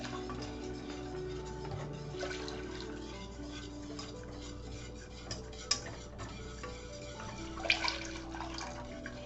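Lobster mushroom gravy thickened with roux is stirred steadily in a pot, a continuous soft scraping and swishing with a few sharper clinks of the utensil against the metal near the end, no voices.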